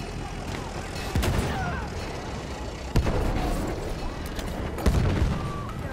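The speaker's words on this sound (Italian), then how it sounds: "Ho lanciato una granata" Grenade explosions go off in Battlefield 1 amid ongoing battlefield noise, with three sharp blasts spread a couple of seconds apart over a steady rumble.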